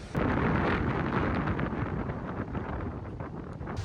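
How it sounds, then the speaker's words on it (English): Strong wind buffets the microphone with loud, continuous rumbling roar and gusty surges on an extremely windy, sunny day before an outdoor match; no voices. "It's literally now the windiest day I've probably ever experienced."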